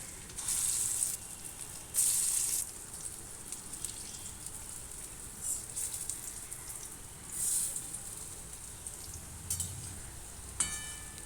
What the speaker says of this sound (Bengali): বাকি পকোড়াগুলো ভেজে নেবো একই রকমভাবে